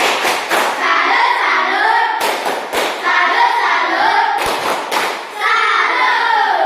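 A crowd claps together in short rhythmic bursts, with sharp accented beats standing out between rounds of steady, loud applause.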